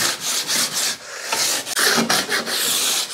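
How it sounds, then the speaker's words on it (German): Light hand sanding along a broken edge of a wooden workpiece: a dry, raspy rubbing in short back-and-forth strokes, close and fairly steady, with brief pauses between passes and no talking. "Und noch leicht von Hand nachschleifen."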